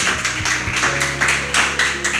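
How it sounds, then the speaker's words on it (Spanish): Church congregation applauding together in worship, a dense, steady wash of many hands clapping with soft accompanying music beneath, fairly loud and close throughout. "Bien fuerte ese aplauso para nuestro Dios"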